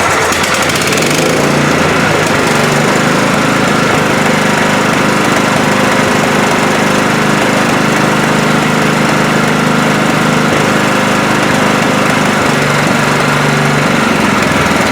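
Kohler 16 engine on a Craftsman riding mower, freshly fitted with a new carburetor, catching and then running steadily at a loud, close, rough idle that holds constant throughout.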